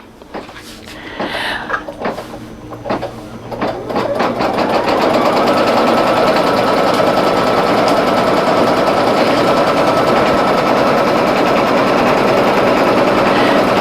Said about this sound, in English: I'm gonna lower the presser foot and do that final stitch